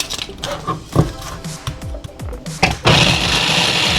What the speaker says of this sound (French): on va passer au robot coupe un oignon rouge avec 2 gousses d'ail